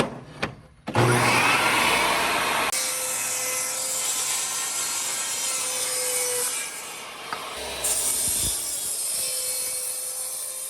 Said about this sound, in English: let's send our L-shaped jig through the saw and finish it